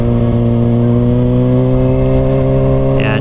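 A Kawasaki ZX6R motorcycle engine drones steadily while being ridden through Canton, South Dakota, a loud, close, continuous hum whose pitch rises gradually.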